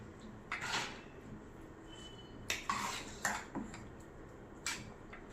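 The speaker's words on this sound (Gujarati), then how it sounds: "હવે આપણે આને સરસ મિક્સ હલાવી લઈશું" Spoon or spatula stirring a spice mix of chili powder into a chili pickle in a metal pot, with scattered scraping and clinking strokes, fairly faint and close, with no talk.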